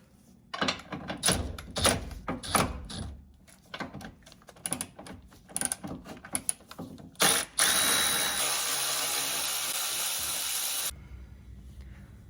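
A ratchet wrench backs off 16mm bolts holding a car bumper, heard as bursts of rapid clicking, followed by a longer, louder continuous mechanical whir before it stops.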